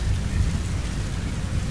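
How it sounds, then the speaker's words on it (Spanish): Dense, loud thunderstorm in the video game Metal Gear Solid V: heavy rain pouring steadily with a deep rumbling low end of thunder throughout, no voices. "aquí esperamos a que se pase la tormenta"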